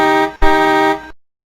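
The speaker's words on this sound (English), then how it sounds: "Hear that honking sound?" A car horn gives two loud, close honks, a short one and then a longer one, before stopping abruptly into silence.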